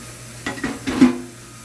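A pound of ground burger meat sizzles in a pan while a utensil scrapes and shoves it around in a few short, clattering strokes, then the pan settles to a quiet hiss.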